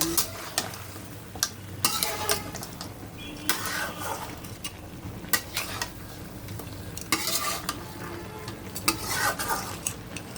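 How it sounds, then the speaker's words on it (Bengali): Duck meat with ginger paste is stir-fried in a pan, with repeated loud scraping and clanking strokes of a spatula over a continuous close sizzle. "তারপর আদা বাটা দিলাম একে ভালোভাবে কষাই নিব"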